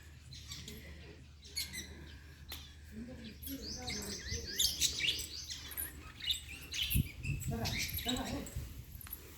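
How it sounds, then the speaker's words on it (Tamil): Parrots and sparrows chirp and tweet in quick, scattered bursts at a temple meditation hall, some calls close and others farther off, against a quiet background. "கிளி, குருவி எல்லாம் இருக்குது அப்படின்னாங்க."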